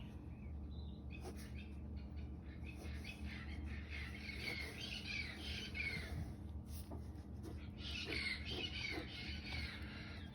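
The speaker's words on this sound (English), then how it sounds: "You can hear our parrots out there in the neighborhood." Faint, distant parrot calls and squawks come in scattered bursts from the neighborhood over a low steady background hum, with no talking.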